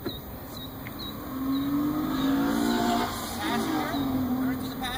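A Jeep crawls off-road in first gear at a Jeep show, its engine humming and rising in low, drawn-out tones with passing tire and chassis noise, and people talking nearby.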